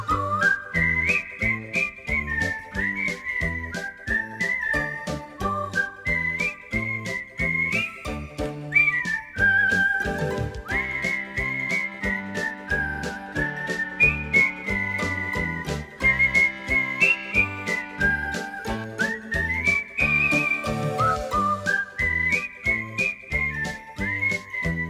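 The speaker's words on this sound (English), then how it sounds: "Far or near, you'll always hear her whistle this tune." Someone whistles a bright, bouncy melody over a plucked instrumental accompaniment, the tune rising and falling in short repeated phrases.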